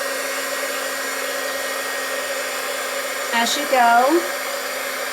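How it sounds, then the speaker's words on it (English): An embossing heat tool blows a steady, even whoosh of hot air to melt embossing powder. Someone speaks briefly over the noise. "You want to keep the heat tool moving"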